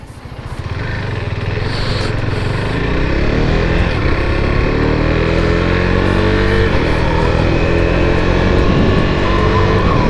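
A Husqvarna Svartpilen 401 motorcycle engine drones loudly and continuously while riding, its pitch rising and shifting through gears with a steady roar throughout.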